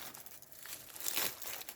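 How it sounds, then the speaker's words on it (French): Lemons wrapped in aluminium foil crinkle and rustle in a short, soft burst at a market stall, swelling briefly in the middle with no talking. "enveloppés dans du papier alu."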